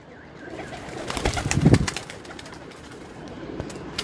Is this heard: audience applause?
no